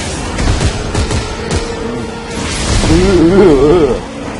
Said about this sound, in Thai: ยิงยิงทีนัดแบบเซมิออโต้อ่ะแตะเงี้ยแล้วไม่ได้หยุด